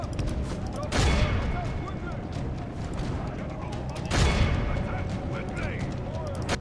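Artillery fire in Medieval 2: two heavy, booming blasts a few seconds apart over a continuous battle rumble of clashing and distant shouts, with someone talking partway through.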